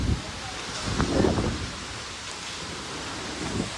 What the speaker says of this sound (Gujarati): એ વરસાદ ચાલુ થઈ ગયો